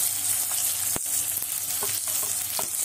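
Chillies, garlic and curry leaves crackle in hot oil for a green egg curry, a dense steady sizzle punctuated by a few sharp clicks of stirring, close up with no voices.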